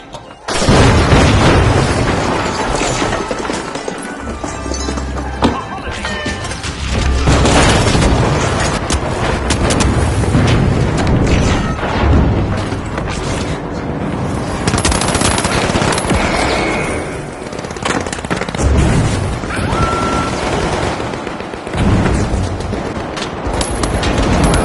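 Explosives detonating in the video game The Finals: a dense, loud, continuous barrage of booms and rapid machine-gun bursts, with explosions layered over constant gunfire throughout.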